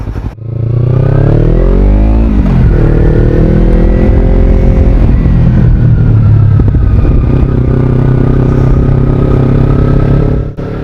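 A motorcycle with its exhaust baffle removed idles loudly and close, then revs up with a deep, throaty exhaust rumble that holds steady before settling, running continuously throughout.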